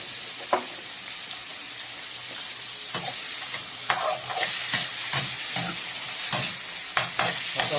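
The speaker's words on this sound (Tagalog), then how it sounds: "Mas okay kung gigisa muna natin ang ating meat para lumabas yung oil niya" Chicken pieces sizzle in a hot pan for chicken pares, with a steady frying hiss punctuated by scattered stirring scrapes and clicks of a utensil against the pan.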